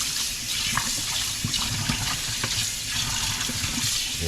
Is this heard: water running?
yes